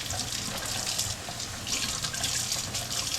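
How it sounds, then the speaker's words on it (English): Water draining and dripping from rinsed sweet pickles as they are shaken in a colander over a sink, a steady close splashing trickle with no talking. "try to get some of this water off of them, just shake them around in the colander a little bit"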